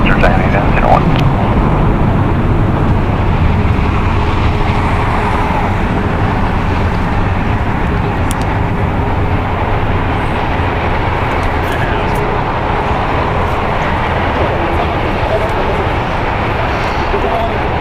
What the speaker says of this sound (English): A Misty departure by that Queen of the Skies